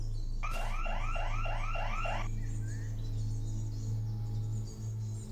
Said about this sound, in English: You hear an alarm go off.